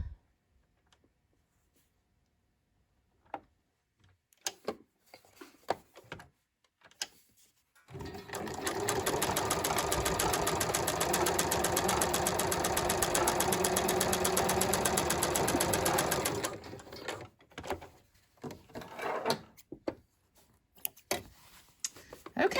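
A sewing machine top stitches a jeans back pocket in one long, steady whirring run of about eight seconds, framed by quiet handling clicks and rustles before and after.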